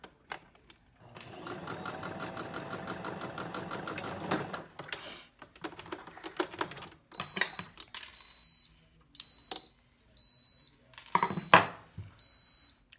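A sewing machine stitches a cornered seam in a steady run of fast stitching, then continues in shorter bursts with small mechanical clicks and beeps between them.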